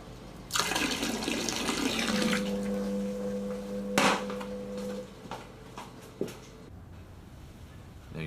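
Water gushes from a tap into a blocked kitchen sink, a loud splashing rush that eases into a trickle with a humming tone, then a few clunks and drips as the flow stops.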